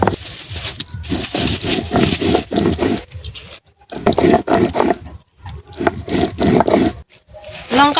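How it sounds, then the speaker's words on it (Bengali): Chillies being ground on a stone slab with a grinding stone for a fish lemon-oil curry, heard as repeated rough scraping and crunching strokes in bursts, close and fairly loud, with brief pauses between rounds. "এই লঙ্কাটা মাছের লেবু তেল ঝালের জন্য এই লঙ্কাটা বেটে নিচ্ছি।"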